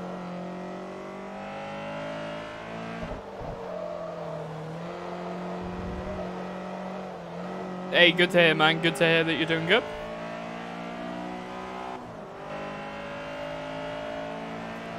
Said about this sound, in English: the Integra is a beautiful sounding car